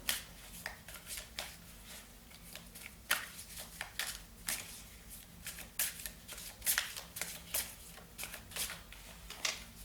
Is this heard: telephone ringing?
no